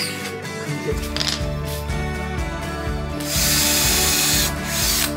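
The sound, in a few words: power drill driving screws into camper van shower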